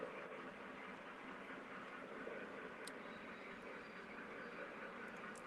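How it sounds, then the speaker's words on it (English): A low, continuous rumble of model trains running along a layout's track, steady and fairly faint, with a couple of tiny clicks. "I could listen to those trains all day."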